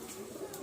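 Pigeons in a home loft give a brief, soft coo at close range, low and murmuring against quiet surroundings.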